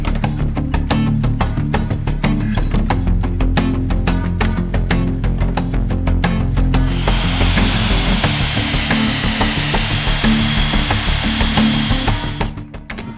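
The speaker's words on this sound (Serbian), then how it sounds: "pa onda možemo da izbušimo rupe" A power drill bores holes in wooden beams for a homemade multifunctional exercise rig, first as rapid rhythmic clattering bursts, then as a loud sustained high whine as the bit cuts through, close and dominant with no talk.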